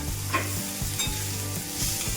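Grated raw mango being stirred in a sizzling pan over low heat, with steady frying hiss and a few soft scraping strokes of the spoon, close and alone.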